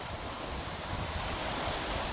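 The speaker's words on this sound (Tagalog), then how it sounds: "ang lakas ng hangin mga bayan" Strong wind and crashing surf at Manila Bay's dolomite beach, a steady, loud roar of waves with wind buffeting the microphone throughout, no voices.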